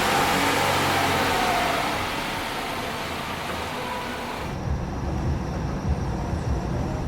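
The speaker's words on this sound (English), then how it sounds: "Okay, we're driving into town." Car driving into town near Porto, Portugal, with a steady loud road and engine rumble heard from inside the vehicle, no talking.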